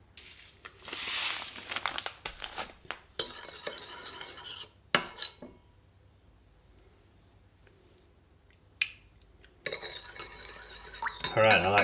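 Homemade yakisoba sauce with tomato and sugar mixed in a pot, brisk scraping and clinking bursts separated by quiet pauses, then a final stretch of stirring.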